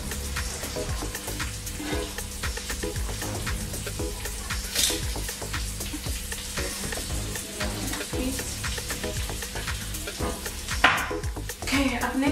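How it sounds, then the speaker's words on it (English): Onions fry gently in a pan over low heat, a continuous close sizzle with frequent stirring scrapes and light utensil clatter throughout, fairly loud and steady. "I cook these onions with low heat"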